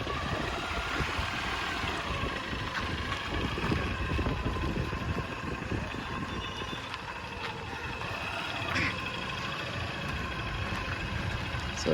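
A farm bike trolley fitted for agricultural use runs in reverse, its small engine idling with a steady low rumble and light rattling, moderately close amid some wind noise and no speech.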